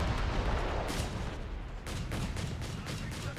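Anti-tank gun fire in the video game Company of Heroes 3, during a 2v2 battle on Elst Outskirts: a dense, loud stretch of booming shots and gunfire, with several sharp reports in quick succession toward the end.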